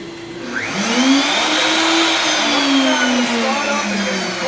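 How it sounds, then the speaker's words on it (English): Shop vacuum running loud and close during a cut into a solid surface countertop, with a rising whine from the cutting tool as it spins up and eases into the seam. "Yes, turn the vacuum."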